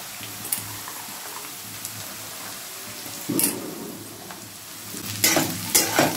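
Beans frying in a pan after onions, a soft, steady sizzle close by broken by a few sharp bursts of stirring and scraping near the end.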